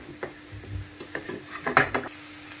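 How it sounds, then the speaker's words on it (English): Onions cooking in a pan with a little salt for a king prawn jalfrezi: a soft steady sizzle under a low hum, broken by a handful of scraping stirs, loudest near the end, with no talk. "We need to cook these onions a couple of minutes."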